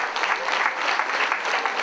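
Applause from a stadium crowd of about 1,500 spectators after a mass dance performance by around 1,000 dancers at the Zemgale Olympic Centre, a dense, even roar of clapping sustained throughout.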